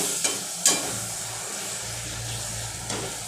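Finely chopped onion and tomato fry in a pan with a continuous close hiss and sizzle, broken by a couple of brief sharp clinks from stirring.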